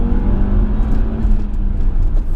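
A Porsche-tuned Audi RS2 turbo five-cylinder pulls hard in second gear, its close, loud engine note droning and climbing steadily in pitch as revs build.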